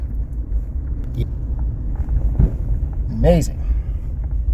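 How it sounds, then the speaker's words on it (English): An old Buick tows a trailer on the way to a dump, its engine a steady, heavy low rumble that fills the scene while someone briefly speaks over it. "here we are, bringing the old Buick and the trailer to the dump"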